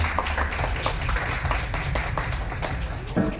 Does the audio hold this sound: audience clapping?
yes